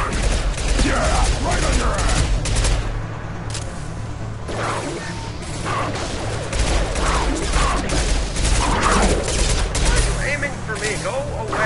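Rapid bursts of automatic gunfire and battle noise from the video game Mass Effect 2 fill the scene, with game characters' voices shouting over the sustained shooting.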